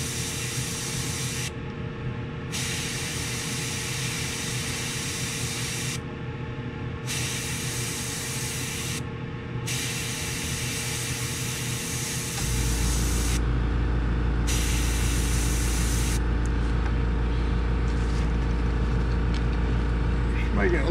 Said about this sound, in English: mainly spraying on the stencil